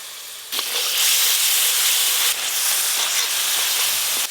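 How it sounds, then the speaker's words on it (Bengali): Spice masala sizzles loudly in a pan after water is added, a dense steady hiss that jumps in at once and swells again midway, heard up close with no talk. "অল্প একটু জল দিয়ে মশলাটা বেশ ভালো করে কষে নেব।"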